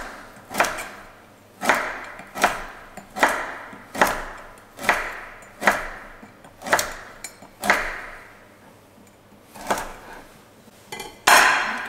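Kolbász sausage and salami being sliced on a wooden board, a steady series of about a dozen sharp knife chops hitting the wood at a regular pace, each with a brief ring, close and fairly loud with no talking.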